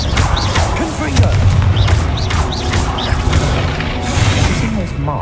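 Confringo fire spells go off in Hogwarts Legacy, a string of blasts, crashes and thuds over busy game effects and music, with a voice briefly speaking during the fighting.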